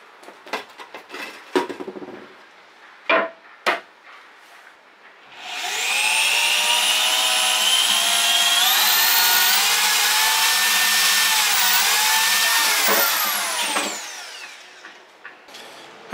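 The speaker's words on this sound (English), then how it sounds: "So we're gonna just drill some holes." A power drill starts with a rising whine and runs steadily for about eight seconds at close range, then winds down; scattered clatter and knocks come before and after.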